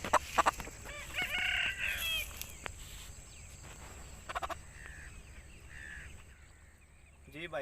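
An Aseel rooster from Mandi Bahauddin crows and clucks close by in bursts, with brief squawks and scattered clucks over an open outdoor background and faint talk.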